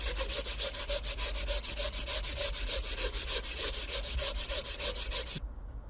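Sanding old gasket material off a Toyota Previa cylinder head with 150-grit sandpaper: fast, loud, rhythmic back-and-forth rasping strokes, close and continuous, stopping abruptly at the end.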